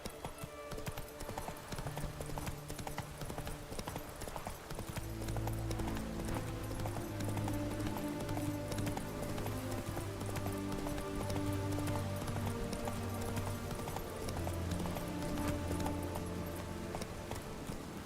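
Rapid clip-clop of horse hooves galloping in a video game after the rider urges the horse on. The hoofbeats pick up pace and run continuously beneath a layer of music.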